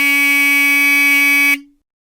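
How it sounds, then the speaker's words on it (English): The electromechanical buzzer tone of an E2S Hootronic alarm sounder drones loud and harsh at a constant pitch for about a second and a half, then stops abruptly with a brief low tail. "Tone 4 is an electromechanical buzzer."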